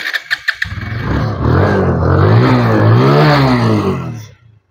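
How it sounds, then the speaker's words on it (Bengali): A TVS Apache RTR motorcycle engine is started with a few quick sharp cranking bursts, then settles into a loud, close, steady idle with slight revving before cutting off abruptly at the end. "বাইকটি কিন্তু স্টার অবস্থায় রয়েছে সাউন্ড কোয়ালিটি আপনাদের শোনার চেষ্টা করবো"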